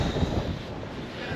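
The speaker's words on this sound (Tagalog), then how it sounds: "Ayan yung hangin, oh." Wind gusting outdoors in bitterly cold weather, a steady low rumble buffeting the microphone close up for a moment, with no talking over it.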